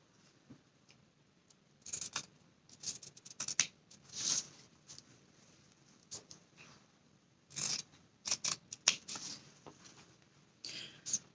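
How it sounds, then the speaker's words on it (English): Scissors snip through two layers of fabric at once while a face mask is being made, giving crisp close cuts in short irregular bursts, quiet and with no talking. "And now I'm just going to take my scissors and cut"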